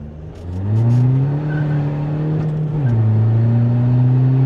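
A tuned Skoda Fabia vRS with a 1.9 PD TDI diesel engine accelerates hard, its engine drone climbing steadily in pitch, dipping briefly at a gear change, then pulling on, loud and close.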